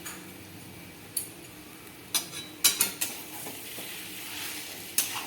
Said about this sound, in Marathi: बटाटा याचबरोबर कोथिंबीर आणि आता आपण त्याला छानपैकी मिक्स करून घेणार आहोत